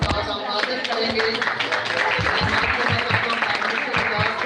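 Congregation clapping at a Christian worship gathering to honour a preacher, a continuous crowd patter with voices talking through it.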